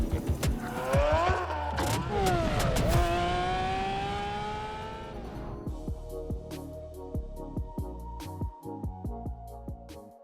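A Ferrari 849 Testarossa Spider accelerates hard, its engine revving through rising gear pulls with quick shifts, then settling into lighter driving with intermittent clicks and knocks as the car slows.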